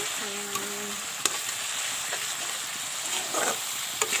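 Ginger-garlic spice paste, pounded at home, sizzles steadily in a pan, close and even, with a couple of faint tapping stirs and a soft scrape.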